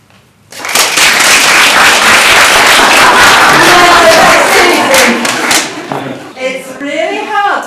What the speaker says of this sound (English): It's really hard to let people clap you.